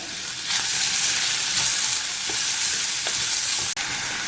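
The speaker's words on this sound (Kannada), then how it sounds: "ಚಿಕ್ಕದಾಗಿ ಕಟ್ ಮಾಡಿರುವಂತಹ ಒಂದು ಈರುಳ್ಳಿ ಹಾಕೋಣ ಇದು ಸ್ವಲ್ಪ ಹೊಂಬಣ್ಣ ಬರೋವರೆಗೂ ಹುರ್ಕೋಬೇಕು" Chopped onion with grated ginger fries in hot oil, a loud continuous sizzle close by with a few spoon scrapes and stirring clicks, and no one speaking.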